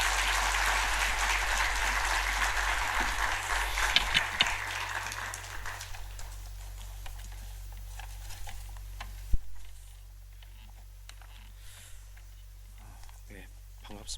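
Church congregation clapping to welcome a visiting missionary, a broad patter of applause that fades over several seconds into a quiet room with a few stray sounds.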